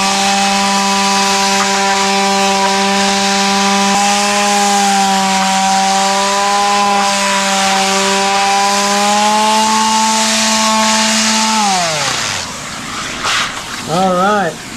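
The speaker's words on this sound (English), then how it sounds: "We're gonna do just a little bit of sanding." A power sander sanding plywood whines steadily and loudly for around twelve seconds, then winds down as its motor pitch drops away.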